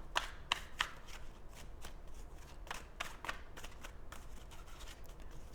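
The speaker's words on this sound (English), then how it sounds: "Let's do a couple more shuffles." A deck of playing cards being shuffled by hand nearby, with a run of crisp riffling snaps and flutters in uneven bursts, with no talk over it.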